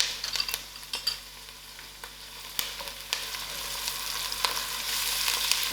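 Dry chilies and ginger garlic fry in a pan with thyme, sizzling steadily while a utensil stirs them, giving repeated scraping clicks and bursts at close range; no talking.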